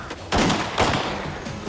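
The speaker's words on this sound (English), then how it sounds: "I have been shot at and I have hit the subject." Gunfire from a police shootout with a bank robber: two sharp, loud shots about half a second apart, then quieter rumbling and background noise.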